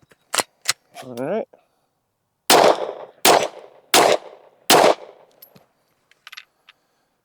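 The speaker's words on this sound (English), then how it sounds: "shoot another 10-shot group, top left target" A pistol fitted with a red dot sight fires at a target in a run of about five sharp, loud shots spaced roughly a second apart, with a brief mechanical rattle and a spoken word between them.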